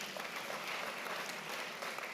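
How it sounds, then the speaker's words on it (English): An audience at a university's tenth-anniversary celebration applauds, a faint, even wash of many clapping hands that holds steady throughout without pause. "Can we just give a round of applause to yourself,"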